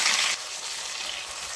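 Steady hissing sizzle of fresh oyster mushrooms frying in a hot pan, with a louder burst at the start that settles into an even crackle.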